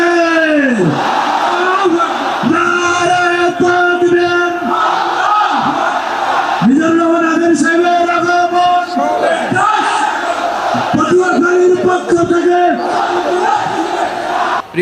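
A large outdoor rally crowd in Patuakhali roars a chanted takbir response in repeated waves, loud massed voices rising and falling several times with brief gaps between each shout.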